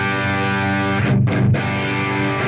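An electric guitar played through an overdrive pedal set at noon, which is not a high-gain pedal, gives a sustained, mildly distorted chord with a fuller strum near the middle and a brighter strike at the end.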